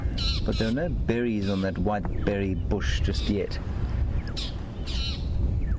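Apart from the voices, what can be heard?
magpie shrikes alarm calling, squawking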